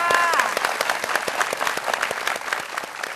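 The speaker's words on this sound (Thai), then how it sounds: "ขอเสียงปรบมือให้กับใบหม่อนอีกครั้งนึงค่ะ" Loud, dense applause from a crowd, many hands clapping steadily and close by throughout.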